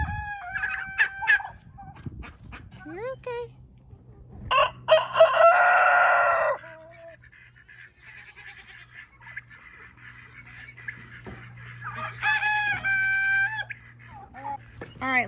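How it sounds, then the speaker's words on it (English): A rooster on a farm crows loudly at close range, a long harsh call, then crows again later; a person speaks briefly in between, with other fowl faintly in the background. "That's our rooster"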